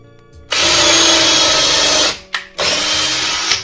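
After a quiet moment a power drill starts up and runs loud and steady, pauses briefly, then spins up again; close by, no voices.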